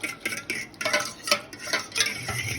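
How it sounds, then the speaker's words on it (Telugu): A fork beats a yeast mixture in a small bowl for pizza dough, making quick close clinks and scraping taps in an irregular rhythm, with no talk. "సో మనం దీన్ని ఫోక్తోనే ఇలా బాగా మిక్స్ చేసుకోవాలి."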